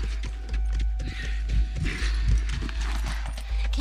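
Horse hooves clip-clop in The Last of Us on PS3, a steady run of close hoofbeats over a low rumbling game backdrop and faint mechanical creaks.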